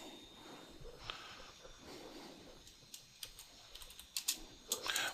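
Quiet typing on a computer keyboard, a steady patter of soft key taps that picks up into a quicker, sharper burst of clicks toward the end, close and alone.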